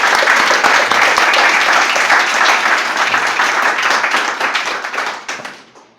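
Audience applause welcoming a lecturer at a talk hosted by a spiritist association, steady dense clapping that holds for about five seconds before thinning and fading out at the end.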